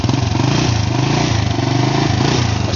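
A 1990 Honda Astrea Prima motorcycle engine with its original carburetor runs steadily and loudly up close, a smooth, even idle-like putter with no voices.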